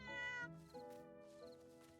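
A cat meows in the video game Little Witch in the Woods, giving three clear, close meows in quick succession against a quiet background.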